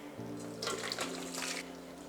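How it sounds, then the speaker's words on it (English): Potato cooking water is poured through a colander into a bowl, making a continuous soft splashing trickle over a low, steady hum. "I like to do it over a colander, over a bowl"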